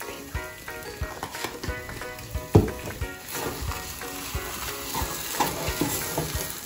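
Sweet mashed bean dough with sugar and ground cinnamon, for Guatemalan rellenitos, stirred in a pan: close scraping and soft knocking strokes in an irregular rhythm, with one louder clack midway and no talking.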